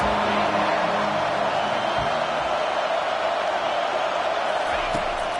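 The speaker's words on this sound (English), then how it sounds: "Third down, and this crowd is tearing the lid off this place." A dense, loud crowd roars continuously at a college football game, a steady wall of cheering noise with no breaks.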